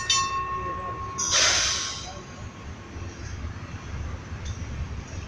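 Heritage drop centre tram 295 runs on rails at a tram museum, with a hissing release of air, a squealing tone and a rumbling roll of wheels that fades to a lower, steady rumble.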